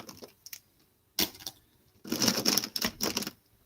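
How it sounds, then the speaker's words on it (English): Plastic markers clacking against each other as they are dropped into a seashell-shaped storage container, a few light clicks followed by a burst of rattling clatter, close and fairly quiet. "the sound of like the markers clacking against each other it comes through really bad on the mic"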